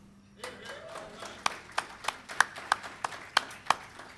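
Indoors at a presentation, a few audience members clap in a sparse, uneven round of claps that picks up briefly, with a voice heard near the start.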